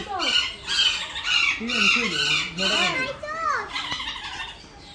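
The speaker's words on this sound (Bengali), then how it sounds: "এই কেসটার ভিতরে এই তিনটা পাখি" Three caged birds at the National Zoo of Bangladesh squawk and screech repeatedly at close range, harsh overlapping calls in quick succession with no pause.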